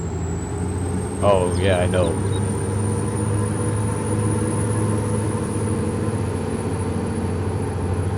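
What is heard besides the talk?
truck engine in a video game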